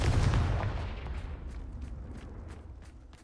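The Confringo fire spell bursts in Hogwarts Legacy as a booming impact that fades into a crackling tail with scattered light pops, fairly faint overall and with no talk.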